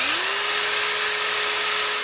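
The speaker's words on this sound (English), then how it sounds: "Before I drill the hole, I went ahead and took the tube off of the carburetor" A power drill bores a hole in a pocket bike's intake tube, whining up to speed in the first instant and then holding a steady, loud, high-pitched drone.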